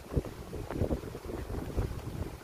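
Wind buffets the microphone beside a river in Australia in low, gusty rumbles with a constant rushing hiss, loud and close, with no voices.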